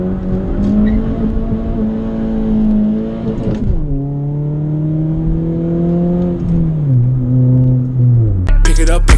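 A manual transmission car pulls away from a stop with its engine droning loud and close, rising in pitch through the gear, dropping as it shifts, then climbing again before a burst of other noise at the end.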